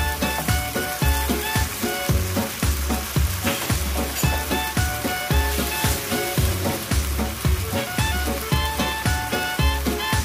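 Wood ear mushrooms and carrot stir-fried in a wok for a vegetarian dish, with loud steady sizzling and regular rhythmic scraping of the spatula throughout, close up and without talk.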